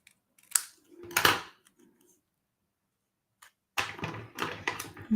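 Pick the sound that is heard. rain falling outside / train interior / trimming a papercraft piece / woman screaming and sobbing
trimming a papercraft piece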